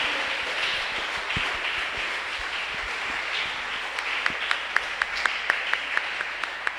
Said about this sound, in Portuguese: Em nome de Jesus nós te louvamos e te aplaudimos, porque te amamos, Jesus.